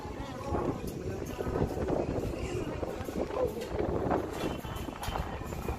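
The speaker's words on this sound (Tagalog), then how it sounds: "Grabe malakas ang hangin" Heavy wind buffeting the microphone in a constant low rumble at a roadside food area in Tagaytay, Philippines, with faint background activity and voices underneath.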